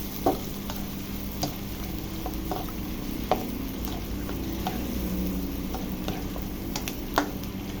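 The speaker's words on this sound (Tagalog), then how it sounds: "pwede na natin ilagay yung ating onions. Ayan. Saka natin igisa-gisa ng ganyan." Onions sautéing in a pan for sopas, a steady close sizzle with occasional spoon stirs and scrapes clicking through it, no talk.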